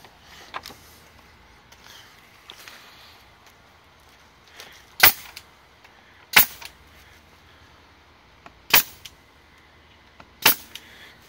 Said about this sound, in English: High-pressured air gun that shoots staples